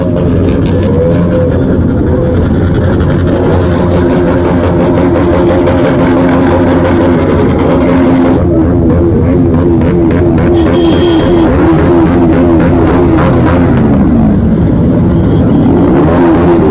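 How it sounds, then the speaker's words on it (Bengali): A loud motorbike engine revs and drones continuously at a crowded Independence Day biker meetup, heavy and close throughout, with rising and falling throttle pulses. "সাউন্ড শোনো, শুধু সাউন্ডটা শোনো কেমন, গাড়ির ইঞ্জিন আছে এটা ফাটিয়ে দেবে"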